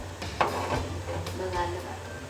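A hot tempering of spiced oil is poured into cooked mash dal, hissing and sizzling as it hits the liquid, a brief crackling burst that settles into a softer fizz.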